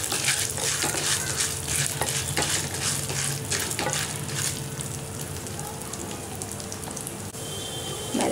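Urad dal fries in a pan for a mint, coriander and curry leaf chutney, giving a steady crackling sizzle with repeated scraping stirs, close and fairly loud, without speech.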